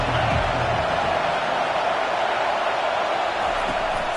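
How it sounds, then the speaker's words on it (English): A stadium football crowd roars steadily and loudly behind the defense on third down, a dense, unbroken wall of cheering that holds at full volume throughout. "Decibels rising as the crowd gets behind this defense on third down."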